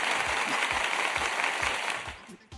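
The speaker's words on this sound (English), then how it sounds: "I personally think that should be a round of applause for both of you." Applause for two quiz contestants, a continuous hiss-like spread of clapping at moderate level that fades out near the end, with faint thuds beneath it.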